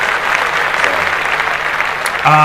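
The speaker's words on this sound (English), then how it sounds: "Let's clap that up in terms of the dedication that went with that." A few podcast hosts clap together in a studio, a brief burst of close clapping, with a tonal hum creeping in near the end.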